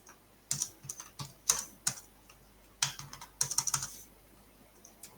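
Code is typed on a computer keyboard in quick irregular bursts of close, crisp key clicks separated by brief pauses, with no talking.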